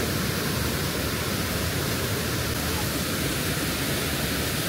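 Steady, loud rushing of water from a waterfall at the Fervença cascades, a dense continuous roar holding even throughout with no breaks.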